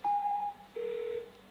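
Two short electronic dialing tones sound one after the other, a higher beep followed by a lower one, as a phone-a-friend call is placed during a game-show-style quiz; no one speaks.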